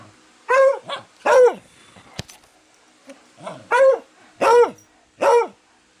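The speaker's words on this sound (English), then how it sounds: "My boy barks a lot, huh?" A pet dog barks near and loud in sharp, spaced bursts, two barks, a pause, then four more, with faint whimpering between them.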